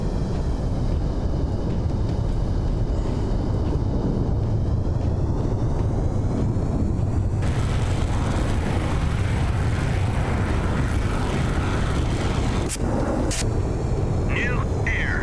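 Military aircraft in the Sea Power naval combat game, Strait of Hormuz setting, give a steady, loud engine roar and rumble that runs throughout, with radio voices talking over it.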